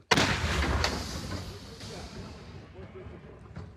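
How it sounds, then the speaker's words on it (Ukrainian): A single heavy blast from a self-propelled artillery gun firing a 122 mm shell erupts at the start, near Toretsk, then a long rumbling echo fades away, with a fainter sharp crack near the end. "122-мм снаряд відлітає на голови окупантів"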